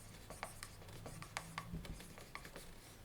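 Pen or marker writing out the solution of an equation system by hand, with close, soft scratchy strokes and short taps, low and quiet with no talking.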